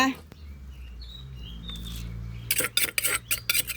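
Chili salt spooned into a jar: a quiet stretch with faint birdsong gives way to a quick cluster of close scraping clinks and taps.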